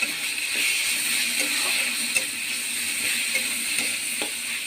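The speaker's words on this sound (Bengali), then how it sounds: "এবার ভালো করে মশলাটাকে কষিয়ে নেব।" Cumin powder, garlic paste and ginger paste fry together in a pan, producing a close, continuous sizzle with light scraping taps from a spatula stirring the spices, and no voices.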